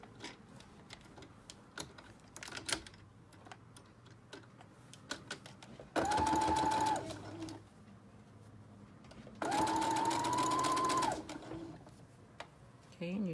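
Sewing machine stitching stretchy fabric around the neckline of a child's cape, two sustained bursts of fast whirring stitching with a rising motor whine, close, between quiet handling noises.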